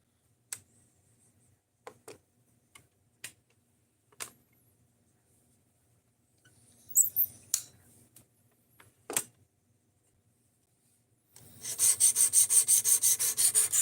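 A knife is sharpened on a diamond plate at 220 grit, first with scattered clicks and single scrapes, then a quick, rhythmic run of rasping strokes, near and clear.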